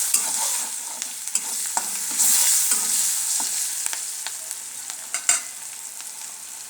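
Spices with turmeric, salt, onion and garlic fry in a pan, giving a steady bright sizzle with scattered scraping and stirring clicks from a utensil, close and continuous without any voice.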